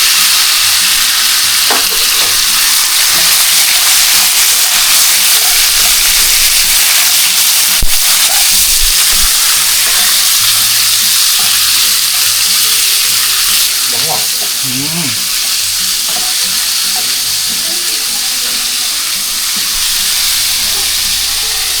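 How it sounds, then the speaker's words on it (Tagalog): Chicken sears in a hot pan with a loud, constant sizzle and hiss, frying steadily throughout with a few faint clinks and stirring sounds mixed in. "So next natin tong chicken. Yan, i-sear lang natin yan."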